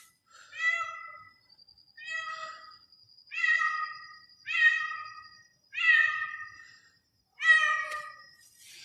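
A cat meows six times in a row, evenly spaced, each cry clear and close, with quiet pauses between them.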